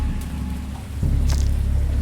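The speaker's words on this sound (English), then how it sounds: "it's raining." Rain falls during a storm near a boat in the video game Dagon, a steady hiss and patter with a low rumble that thickens partway through, and no voices.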